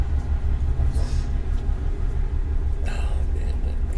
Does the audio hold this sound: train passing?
yes